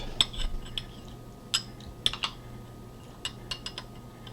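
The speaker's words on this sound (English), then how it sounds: "Now let's give it a good mix." A spoon stirs coffee liqueur into ice cream in a bowl, giving a scattering of faint, sparse metallic clinks and scrapes at an irregular rhythm over a quiet background.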